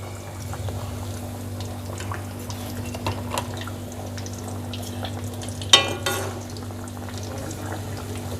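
Fish fries in a pan over low-medium heat with a soft, even bubbling sizzle under a low hum, broken by a couple of sharper clatters near the end. No one speaks.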